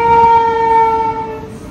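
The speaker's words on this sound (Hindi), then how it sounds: "अभी ट्रेन में टों टों कर रही, पर है कहाँ" A train horn blares loud and close in a steady sustained tone that fades away as the train passes, with a low rumble beneath it.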